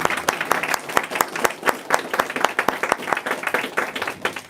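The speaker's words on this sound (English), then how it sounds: "I would like to have one more wonderful round of applause for Prabhu" An audience at a spiritual lecture on a religious founder gives a speaker a round of applause, many hands clapping in dense, lively bursts, sustained and fairly close with no talk over it.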